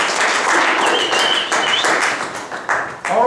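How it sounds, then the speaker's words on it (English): A class breaks into loud applause, dense clapping from many hands close by that surges and dips, with cheering voices and a squeaky tone mixed in near the end. "Everybody give a round of applause."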